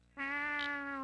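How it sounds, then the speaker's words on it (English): Single drawn-out meow from a cat in the video game Chulip, a clear tonal cry lasting nearly a second, close and alone against a quiet background. "Yeah, you can try and kiss the cat, but it doesn't happen. He just kind of meows at me like,"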